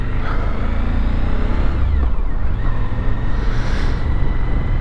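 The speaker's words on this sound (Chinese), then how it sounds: "这个风， 大家可以听一下风声" Heavy wind roars across the microphone while a Suzuki V-Strom 1050XT motorcycle is ridden through falling snow, a loud, continuous buffeting rush with a low engine drone underneath and no pauses.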